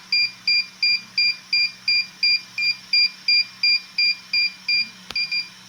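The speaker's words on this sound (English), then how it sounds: "After the beep, in about a few seconds." A DJI Air 2S drone remote controller beeps during pairing: about fifteen short, even, high-pitched beeps in a steady rapid rhythm, close and clear over a quiet background, ending with a brief click.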